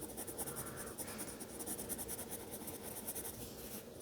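Pencil colouring on paper in a kids' drawing lesson, a steady close scratchy rubbing that runs continuously and alone, with no talk.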